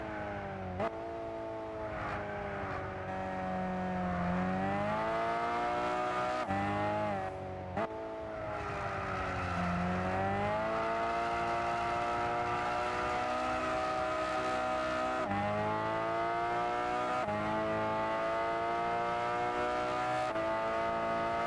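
A racing car engine in Gran Turismo 6 drones and revs continuously, pitch rising and falling through gear changes, with a few brief clicks and skids.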